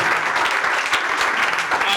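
A church congregation applauds after a Bible reading, a steady, dense clapping from many hands, close and continuous for the whole moment.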